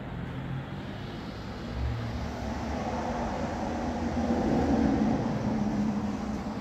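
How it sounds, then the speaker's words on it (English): A 1953 Crane Santon flushometer toilet with a high tank flushes in one loud, steady rush of water, surging and swelling for several seconds with a deep rumbling low end. "this is a flushometer toilet on a high tank"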